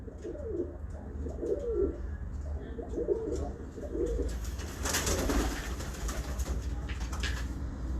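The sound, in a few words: pigeons cooing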